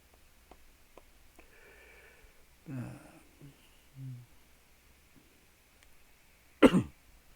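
A person coughs a few times, quiet and close, with short isolated bursts and a sharper, louder cough near the end against near silence.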